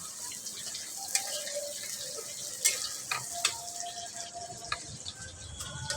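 Chicken frying in a pan while being stirred, a steady sizzle with scattered clicks and scrapes of a utensil against the pan, close and fairly quiet, with no talking.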